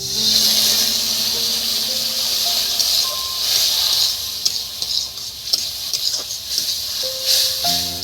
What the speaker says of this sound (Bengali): বন্ধুরা এবার এর মধ্যে দেখুন আমি অল্প একটু জল দিচ্ছি।